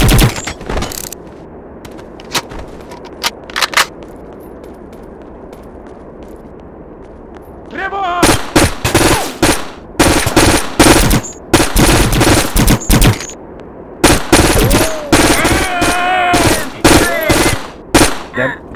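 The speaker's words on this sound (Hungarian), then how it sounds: "külső nézetben lövöldözök, nem bírom lelőni az esetek többségét." Loud bursts of automatic gunfire from the video game Conflict: Global Storm, rattling in rapid volleys after a quieter stretch, repeated in several dense clusters.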